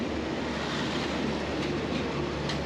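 Old sleeper locomotive on the line to Bangkok rolling into a station, a broad, steady rumble of wheels and machinery with faint metallic clicks and squeals, moderately close and without voices.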